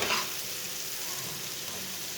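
Boiled black-eyed peas fry in a pan while a spoon stirs them, giving a steady, even sizzle that runs throughout with no voices.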